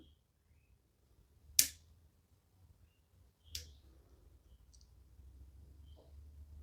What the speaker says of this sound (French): les petits picots qui dépassent, on les coupe sans trembler